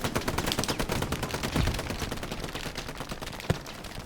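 Heavy machine gun fire in a competitive online war shooter match, with dense rapid bursts running almost unbroken throughout, one sharper single report near the end.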